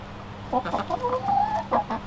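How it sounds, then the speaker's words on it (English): Chickens in a bedding-covered backyard run cluck steadily and fairly close while scratching for and eating black soldier fly larvae, with several short clucks and calls in a row. "the birds are made to scratch these things out"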